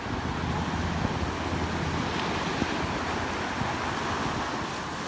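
Waves wash steadily onto a lake beach with a heavy undertow, a continuous loud broadband surf roar with wind buffeting the microphone throughout and no voices.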